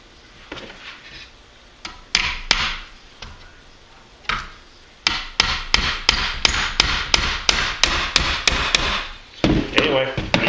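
Sharp hammer blows striking a nail into wood, a few scattered hits followed by a steady run of evenly spaced strikes, close and loud with no talking.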